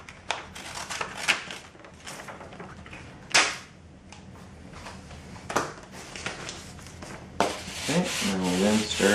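A dry decal is rubbed down onto a surface, producing close scratchy rubbing with several sharp tapping clicks and a longer, louder burst of scraping at the end.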